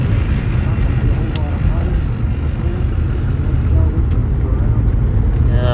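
A Polaris Trailblazer 250 two-stroke ATV engine drones steadily while being ridden outdoors, a constant loud mechanical hum with wind noise and talking over it.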